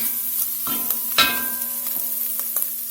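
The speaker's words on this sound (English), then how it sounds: "We got the ham browned up here pretty good." Ham browning in a skillet with fatback, a steady low sizzle with a faint hum, punctuated by a few sharp scrapes and clinks of a utensil against the pan, close and alone.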